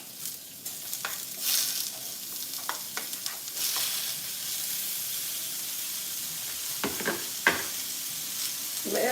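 Mushrooms fry in a pan with a constant crackling sizzle and hiss, while scraping stir strokes and clicks of a utensil come through close by.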